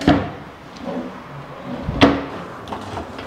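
A kitchen drawer in a large house is opened and shut, giving a sharp wooden knock at the start, another around the middle and a lighter clack soon after, against a quiet room.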